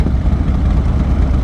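A pre-owned consignment motorcycle engine gives a steady, close, low rumbling drone that holds even and loud for a short moment.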